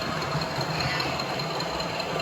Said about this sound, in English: you can see the engine's gone to an idle